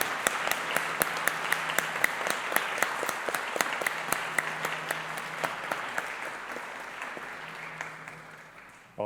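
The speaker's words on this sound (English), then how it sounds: "please give a big round of applause as a sign of appreciation to all your supporters" Audience at a graduation ceremony breaks into sustained applause, a dense crowd of hands clapping steadily and loudly throughout before easing slightly toward the end.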